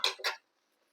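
Two quick metallic clinks close together as a lid is set on a pot of fish curry, then silence.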